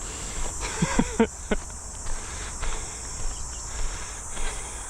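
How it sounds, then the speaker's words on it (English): A steady high-pitched cicada drone hums in the background, with a few soft rustles and knocks nearby. "Just a cicada chirping"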